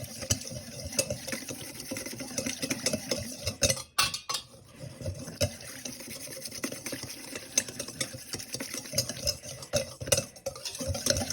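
Liquid dressing ingredients being whisked in a bowl, a continuous rapid clatter and swish of the whisk against the sides, briefly pausing once before resuming close and steady.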